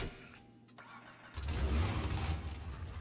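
Trophy truck engine from GTA 5 starts up after a quiet moment, then settles into a loud, deep, rumbling idle close by with no talking.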